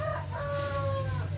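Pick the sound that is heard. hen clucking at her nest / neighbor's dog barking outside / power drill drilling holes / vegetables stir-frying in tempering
hen clucking at her nest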